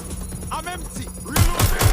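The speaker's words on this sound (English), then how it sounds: "Shots fired!" Rapid gunfire in the video game Watch Dogs: Legion, a cluster of loud repeated shots in the last half-second following tonal game effects and background sound, played through cloud gaming on Android.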